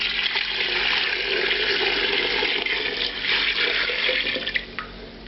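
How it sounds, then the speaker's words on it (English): Water pours steadily into a pot of deep-fried beef and tomato paste for a Salvadoran carne guisado, a loud, continuous rushing splash with no talk over it. "And I'm going to add water."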